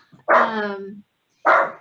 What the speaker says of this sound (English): my puppies are barking